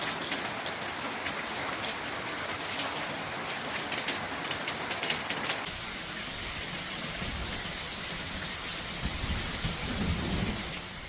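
Heavy rain pours steadily across city streets in Tarragona, Spain, a dense hiss of drops on surfaces with low thunder rumbling underneath, growing deeper and heavier toward the end.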